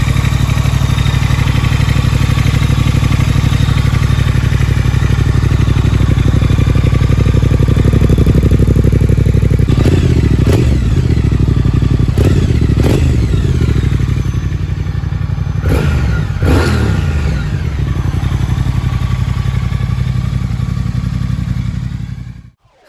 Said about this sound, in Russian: Характерный звук Bonneville Twin усиливается новыми спортивными глушителями Megaphone Twin из матовой нержавеющей стали, которые были тщательно настроены для создания глубокого гортанного рева